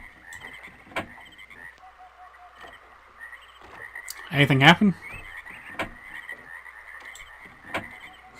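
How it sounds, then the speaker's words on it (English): Frogs croak in the background ambience of the Myst video game, with a short, loud burst of croaking midway over faint natural noise and scattered clicks; a person briefly speaks. "Just frogs and natural noises?"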